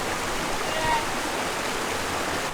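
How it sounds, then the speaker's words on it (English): A waterfall deep in coastal mangrove country roars as a steady broadband rush of falling water, constant and fairly close, with no speech over it. "You can see the waterfall."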